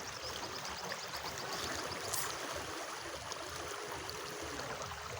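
A strong river current rushing past, a steady broadband wash of flowing water, moderately faint and continuous without talking.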